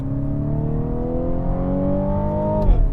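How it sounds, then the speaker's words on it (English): A 2018 MINI JCW Countryman All4 engine revs steadily upward in manual mode, its rising harmonic whine climbing over about two and a half seconds before a sharp shift cuts the pitch, all close and loud without talk. "Put it into manual mode,"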